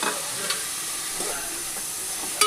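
Sweet onion and sweet corn fry in a pan for veg fried rice, giving a quiet, steady sizzle with occasional soft stirring scrapes and a brief clack at the end.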